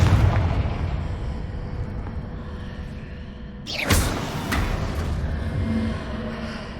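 Confringo fire spell in Hogwarts Legacy bursts with a sharp, loud blast that rumbles away, after a low ambient murmur and followed by a smaller crackling pop.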